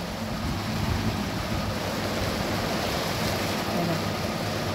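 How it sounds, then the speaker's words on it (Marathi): Heavy rain pours with gusting wind at a home during a monsoon storm, a dense, steady roar of rushing water and wind noise that holds loud and unbroken throughout. "पाऊस कसा यायला लागला वारं सुटलं"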